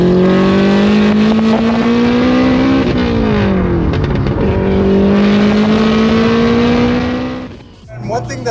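An 800hp turbocharged AWD Honda Civic with a 3-inch straight-pipe exhaust roars loudly up close, its droning engine note climbing, dipping briefly, then climbing again before fading near the end.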